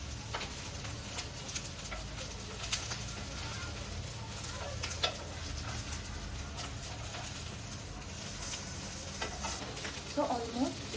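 Paneer fries in a pan with a faint, steady sizzle and occasional light ticks, with soft talking at times.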